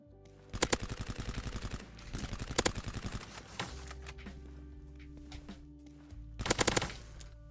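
Automatic weapon fire in the browser shooter Krunker.io, several rapid rattling bursts of close shots separated by short pauses, with a low steady game hum beneath.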